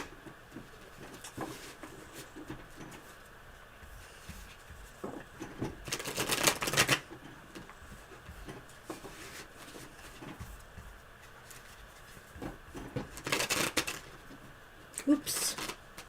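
Tarot cards being shuffled by hand in a quiet room, giving soft papery riffles and two louder bursts of flicking, with light background murmur and no clear talk.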